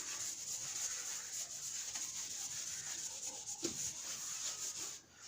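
An eraser rubs across a classroom board in a steady, faint scrubbing hiss that continues almost without pause for several seconds.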